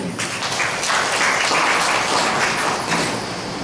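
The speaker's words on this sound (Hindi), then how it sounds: "एक बार ताली बजाएं" A church congregation claps together after the pastor calls for applause during a Sunday Hindi service, dense steady clapping filling the space, loud and continuous without any talk over it.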